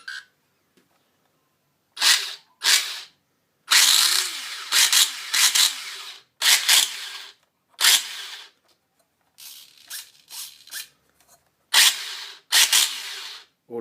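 Dromida SC4.18 RC car electric motor running on a LiPo battery, with a pinion gear wearing out. It gives loud, close bursts of high whine in short throttle blips separated by silence.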